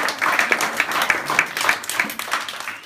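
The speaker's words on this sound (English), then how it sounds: "I think they all deserve a round of applause." Audience applause at a junior sports team awards ceremony, a steady patter of many hands clapping at moderate distance for a few seconds with no speech over it.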